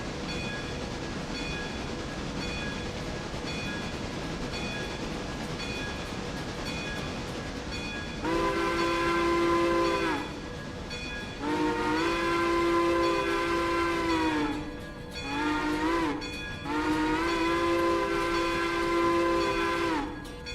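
A train in a modded railroad game rolls steadily with constant mechanical rumble, while a loud whistle sounds in three long blasts over the running noise.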